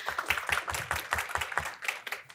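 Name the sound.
audience applause for a speaker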